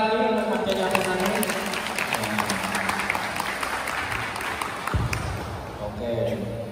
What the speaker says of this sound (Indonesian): Tepuk tangan sekali lagi untuk Mas Jerry Apunani